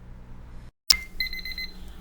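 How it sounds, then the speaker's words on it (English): An oven timer goes off after a batch of baking, a rapid run of high, evenly spaced electronic beeps right after a sharp click, loud and close over a quiet kitchen hum. "As you can hear pretty darn loudly, the timer has now gone off"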